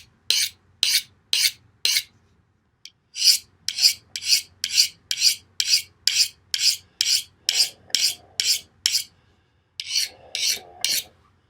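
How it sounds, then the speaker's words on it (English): A knife edge, a Spartan Blades Talos, is stroked repeatedly along a honing steel, giving a steady series of short bright rasping swipes with a brief pause partway through, close and clear, with no talking. "Got a honing steel right here."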